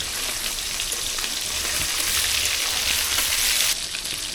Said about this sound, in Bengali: চিকেন এক পাশ ভাজা হয়ে গেছে, আবার উল্টে দেবো।